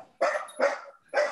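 A dog barks three times in quick succession, loud and close, with short gaps between the barks and no talking over them.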